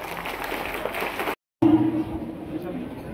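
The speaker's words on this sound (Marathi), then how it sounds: "टाळ्या वाजवा।" An audience at a high school prize ceremony claps in a steady, dense burst of applause with some crowd chatter. The clapping briefly cuts out, then resumes, and a voice is heard near the end.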